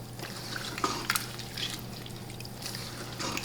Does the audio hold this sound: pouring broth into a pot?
yes